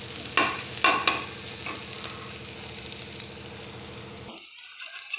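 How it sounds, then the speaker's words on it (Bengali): Dry chillies, cumin, chopped onion and chopped garlic fry in a kadai for masoor dal, a steady close sizzle with a few sharp stirring clatters, cutting off abruptly near the end. "এইবার কড়াইয়ে শুকনো লঙ্কা, জিরে, পেঁয়াজ কুচি, রসুন কুচি দিয়ে ভালো করে ভেজে নেব।"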